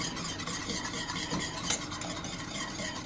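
Dairy-free cheese sauce being stirred with flour in a pan, a dense, steady bubbling scrape close by with a faint clink midway and no voices.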